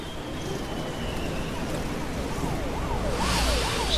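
Ambulance siren wailing in the Truck Driver: The American Dream video game during a dark, stormy drive in Ohio, rising and falling in repeated sweeps over steady rain and road rumble, growing louder toward the end.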